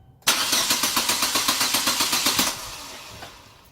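A car starter cranks the engine after a replacement part is fitted: rapid, rhythmic churning pulses for about two seconds, loud and close, then it stops without the engine catching, leaving a fading hum.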